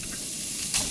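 Enoki mushrooms hit a hot wok with a steady, close frying hiss that flares into a louder sizzle near the end; no voices.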